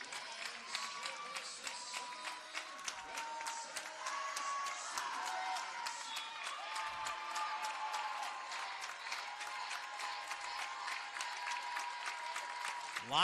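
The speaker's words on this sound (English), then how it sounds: "get those hands clapping" Fans at a women's college volleyball match applauding in an indoor gym, steady dense clapping from a crowd that continues throughout with a few faint shouts mixed in.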